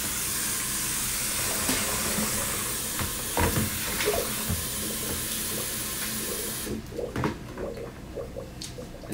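Water runs steadily from a kitchen tap with a loud continuous hiss, broken by a few clinks and knocks, then cuts off, leaving quieter handling sounds while couscous is being made.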